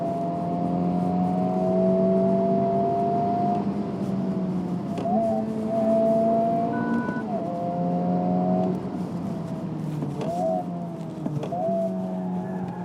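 A 2023 Honda Civic Type R FL5 engine drones steadily on a race track, its pitch climbing and dropping through repeated gear changes with blipped rev-matching.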